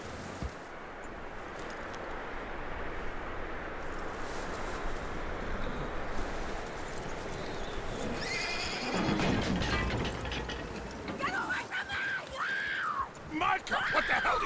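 A horse in the video game Red Dead Redemption 2 whinnies loudly in long, wavering calls near the end, over a steady bed of noise and some talking.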